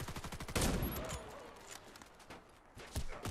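Gunfire in the shooter game Warface, a rapid burst of close shots at the start followed by scattered, quieter shots and a couple of sharp reports later, with a voice speaking over parts of it.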